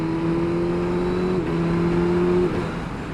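A Suzuki GSX-S1000 motorcycle engine runs with an auto blipper, a loud, steady droning tone that steps in pitch briefly, then dips as the revs drop near the end.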